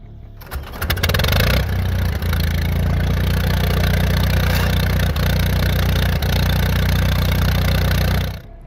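A 1924 International Harvester Farmall Regular four-cylinder tractor engine cranks, catches and settles into a loud, steady running drone, close by, with a few faint clicks over the rumble.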